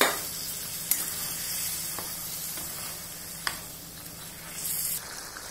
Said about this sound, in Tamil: எப்படி அழகா கொதிக்குது பாருங்க